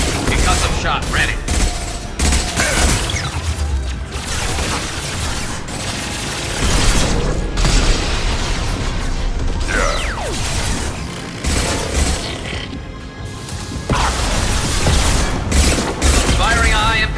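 Weapon fire in Mass Effect combat as a high impact shot goes off amid a dense, continuous barrage of gunfire, booms and mechanical clatter, with voices mixed into the busy battle noise.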